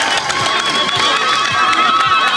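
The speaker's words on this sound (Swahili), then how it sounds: "Wapi makofi ya teko?" A crowd at a Deputy President's economic empowerment gathering in Dadaab cheers and applauds for Teko, a dense, steady roar of voices and clapping with scattered shouts that holds throughout.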